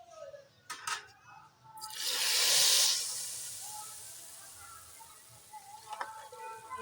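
Roasted cumin hits a pan of curry with a sharp, loud sizzle that swells and then fades into a lingering hiss, with a few clinks of utensils before and after.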